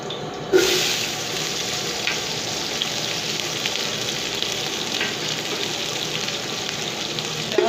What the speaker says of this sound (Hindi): तेल गरम होने तक वेट करें और उसमें प्याज ऐड करें।